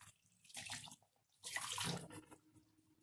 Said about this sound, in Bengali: আমি এখানে অল্প একটু প্রয়োজন মতন একটু জল দিয়ে দেব।